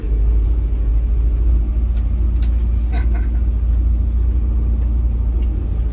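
Car accelerating through a sandy village, with a loud, steady low engine rumble and road noise throughout, heard from inside the vehicle.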